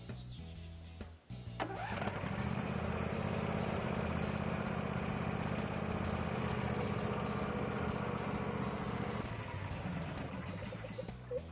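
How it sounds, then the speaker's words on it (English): A ride-on lawnmower cutting grass: after a brief clatter the engine settles into a steady, loud droning hum that holds for about eight seconds before easing slightly, with no talking. "now we cut the grass like this with a ride-on lawnmower."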